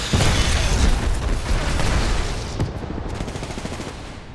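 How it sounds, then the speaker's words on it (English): Arc star grenade thrown amid a firefight in Apex Legends, with dense bursts of gunfire and explosive booms crowding the first seconds, then a crackling electric fizz trailing off as the fighting continues. "Tossing an arc star."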